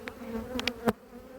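Honey bees buzz around a hive in a steady droning hum, with a few brief louder passes as individual bees fly close, no talking.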